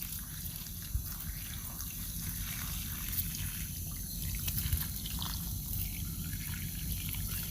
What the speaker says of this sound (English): I'm going to saturate this container to where it's going to be so much water in here